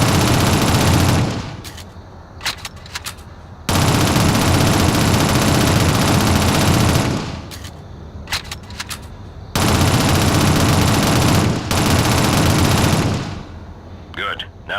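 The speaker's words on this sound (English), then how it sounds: "Use your SMG to clear it now." Bursts of SMG gunfire in the Shadowrun video game, three long loud sustained volleys separated by short gaps filled with sharper individual shots, close and dominating.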